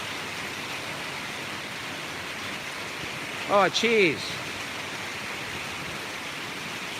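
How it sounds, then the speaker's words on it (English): Steady rain falls during the Laos rainy season, a constant broadband hiss that runs the whole stretch, with a brief burst of voices partway through. "I do apologise for the rain."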